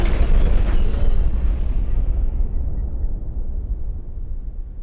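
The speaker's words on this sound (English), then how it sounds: "apparently you can set off a chain reaction of explosions, and it's apparently the most in the game" A chain of military convoy explosions in the video game Fallout: New Vegas, heavy loud booms with deep rumble rolling one into another, then fading into a long low rumbling tail.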